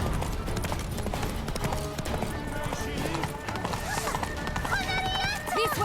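Galloping horse hooves in The Witcher 3 video game, a steady rapid clip-clop running throughout under a busy game soundtrack, with voices talking over the ride.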